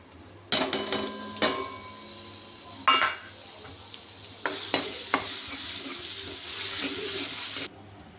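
Garlic and ginger fry in oil in a pan for stuffed eggplant, with sharp clatters of stirring and scraping, then a steady hiss of sizzling close by.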